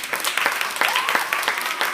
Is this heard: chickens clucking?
no